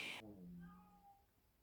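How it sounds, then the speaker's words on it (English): A brief faint cat meow follows a short burst of noise, soft and somewhat distant. "if you hear the kitty cat, that's my neighbor's mini cats"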